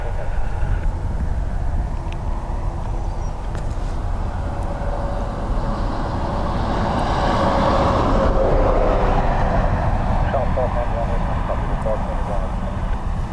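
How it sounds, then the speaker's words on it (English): An ATR 72 turboprop airliner takes off for Bristol at Dublin Airport, a sustained broad engine roar that swells toward the middle and holds, heard at a distance with a faint tonal whine. "ATR 72 off to Bristol"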